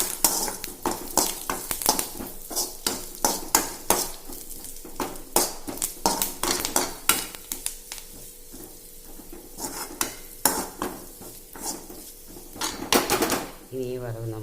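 A spoon scrapes and clatters around a pan of frying sliced onions and curry leaves, loud rhythmic stirring knocks over a steady sizzle, with a person talking briefly partway through.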